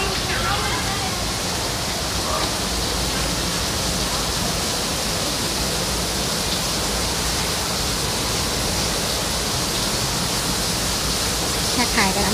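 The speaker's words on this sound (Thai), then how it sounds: "มีน้ำตกด้วยนะคะ" Steady, dense rush of falling water from a small waterfall in a rock garden nearby, filling the whole clip at an even level with a faint voice under it.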